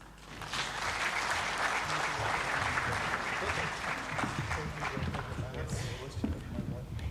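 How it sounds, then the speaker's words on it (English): An audience at an annual general assembly session gives a round of steady applause, many hands clapping loud and close, continuing without a break. "Another round of applause."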